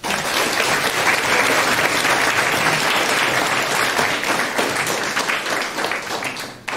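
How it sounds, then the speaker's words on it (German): Steady, full audience applause for a youth hackathon team presentation in Hamburg, dense clapping sustained for several seconds before tapering at the end. "Von daher einen ganz tollen Applaus für Political Block."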